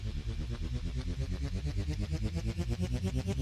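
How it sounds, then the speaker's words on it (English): A synthesizer riser effect: a buzzy, pulsing synth tone that climbs gradually in pitch over a few seconds, playing steadily with no voices. "And that's how you make the riser."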